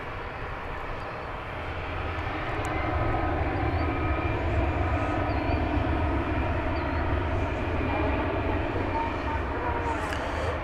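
An American Airlines Airbus A319 takes off at DFW Airport at night, its engines producing a steady, moderately distant roar with a low rumble, holding constant throughout.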